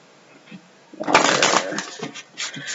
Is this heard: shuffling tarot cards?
yes